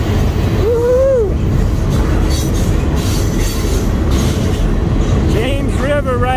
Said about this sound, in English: we get a live train while we do it